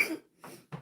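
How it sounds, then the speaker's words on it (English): Two or three short, dry coughs from one woman, close and fairly quiet, spaced by brief pauses, with no speech. "I start coughing because I get excited."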